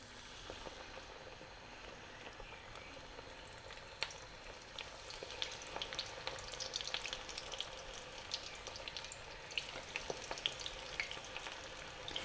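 Small portions of sweet corn pakora batter with corn flour and egg frying in hot oil, a steady quiet sizzle with scattered crackles and pops.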